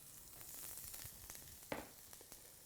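Garlic and ginger sizzle steadily in hot oil in a pan for a vegetarian Chinese hot and sour soup, with a quiet continuous hiss and a few sharper stirring clicks near the end.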